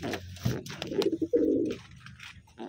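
A large Wantai pigeon coos nearby in a few low, throaty bursts, rolling and soft, with a quiet pause afterward.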